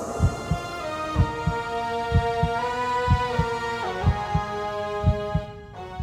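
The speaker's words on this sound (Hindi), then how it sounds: "तुम्हारी धड़कन को मैं बहुत अच्छे से जानता हूं।" A heartbeat sound effect in a TV drama beats as steady, evenly spaced double thumps over a sustained musical drone, ending with a brief swell of tone.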